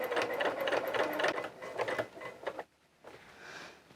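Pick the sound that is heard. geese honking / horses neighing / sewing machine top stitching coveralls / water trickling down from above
sewing machine top stitching coveralls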